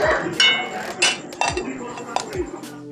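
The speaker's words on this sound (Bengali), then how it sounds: "সাবুটা দিয়ে নাড়তে হবে, নাহলে দলা লেগে যাবে" A spoon stirs sago (sabudana) in milk in a metal pot, making repeated scraping strokes and metallic clinks against the pot in a steady rhythm, close and fairly loud.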